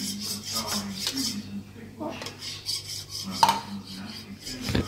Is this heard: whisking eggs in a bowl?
yes